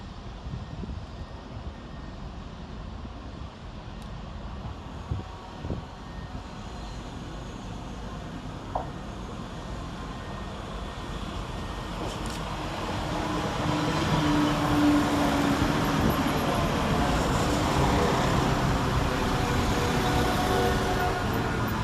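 West Midlands Railway diesel multiple unit 172337 at Birmingham Moor Street station, a steady low engine rumble and rail noise that swells louder toward the end, with no talking.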